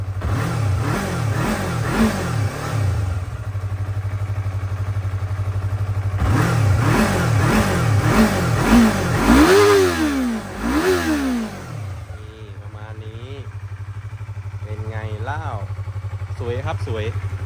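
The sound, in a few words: Yamaha YZF-R3 motorcycle engine revving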